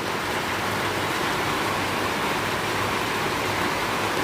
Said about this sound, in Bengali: আর টিনে বৃষ্টি পড়লে কেমন আওয়াজ হয় বুঝতেই পারছো